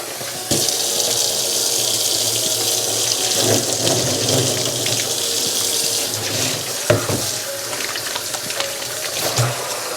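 Water streams steadily from a kitchen faucet into a sink during cleaning, a constant hissing rush with occasional clinks and splashes of handling, no voices.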